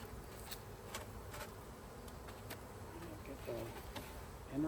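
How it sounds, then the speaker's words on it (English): Faint, continuous buzzing of many honey bees swarming around an open hive, with occasional louder buzzes as individual bees pass close. "Be careful to not squish any bees."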